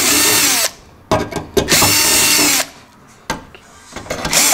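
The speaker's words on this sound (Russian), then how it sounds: "наметили, дабы капот не просверлить" A power drill bores through the hood of a Ford Edge during bodywork repair, in loud, steady bursts of whirring separated by short pauses, with brief clicks and knocks between the runs.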